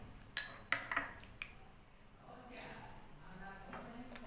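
A spoon stirring a mixture in a bowl while making a Frankie roll: light, scattered clinks and taps of metal against the bowl, fairly faint, with a voice talking quietly at times.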